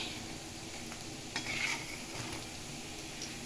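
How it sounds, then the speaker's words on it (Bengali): Food crackles and sizzles in a pan throughout, fairly quiet, with an occasional stir or light clink; no talking. "কেমন করে ভাজছি আমি"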